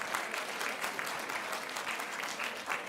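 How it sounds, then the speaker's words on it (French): Audience applause at a French women's conference colloquium, dense steady clapping filling the room throughout, fairly distant and moderate in level with no clear talk. "Qu'on peut applaudir bien fort."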